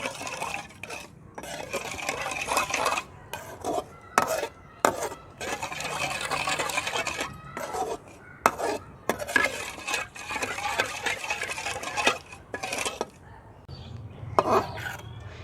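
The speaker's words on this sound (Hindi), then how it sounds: "और इसके साथ ही ये आधा कप दूध है, ये शामिल करेंगे और चीनी के मिक्स होने तक हम इसे हिलाते रहेंगे मुसलसल" A spoon scrapes and stirs half a cup of milk with sugar and vermicelli in a pot, in repeated uneven strokes with short pauses and occasional clinks against the metal.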